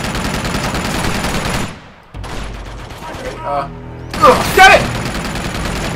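Rapid bursts of gunfire in the video game Uncharted 2: Among Thieves Remastered, loud and close, with a short lull before heavier firing resumes, while someone shouts briefly.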